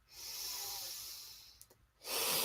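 A big breath in before chanting in a yoga chakra meditation, a long soft airy inhale, close and alone, ending briefly before a louder breathy sound.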